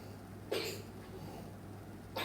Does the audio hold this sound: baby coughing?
yes